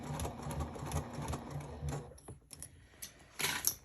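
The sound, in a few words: sewing machine stitching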